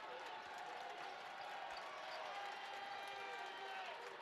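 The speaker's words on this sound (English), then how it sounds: "You can hear the crowd here at the Liacouras Center" Crowd noise at a college basketball game at the Liacouras Center, a steady, distant murmur of spectators under a continuous hiss, fairly faint and without distinct cheers or claps.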